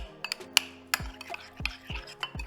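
Spoon clinking and scraping against a bowl while lime juice is stirred into fresh salsa, a series of close, light taps in an irregular rhythm.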